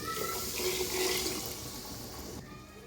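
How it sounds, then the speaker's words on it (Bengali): Cold water poured from a mug into a pot of fried polao rice, a close, continuous rushing pour that eases off near the end, with no talk. "1 মগ চাউলে 2 মগ পানি দিব।"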